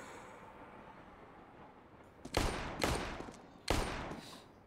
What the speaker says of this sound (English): Firing off warning shots